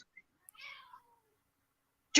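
A sick cat with watery eyes lets out one thin, drawn-out meow, close and fairly soft in a quiet room, followed by a sharp click.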